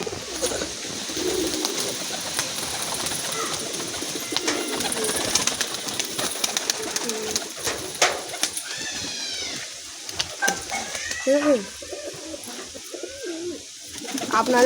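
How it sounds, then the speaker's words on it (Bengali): Pigeons in a loft, including a pair of pouter-type birds, give soft rolling coos with scattered brighter chirps and wing rustles, close by and intermittent. "আপনাদের দুটো গলায় চাপ পায়রা দেখাচ্ছি"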